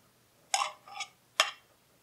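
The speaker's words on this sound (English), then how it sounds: "We're going to start off by whisking together cream cheese and ricotta cheese" Cream cheese and ricotta cheese being whisked in a bowl: three short, bright clinks and scrapes of the whisk against the bowl, close and distinct in an otherwise quiet room.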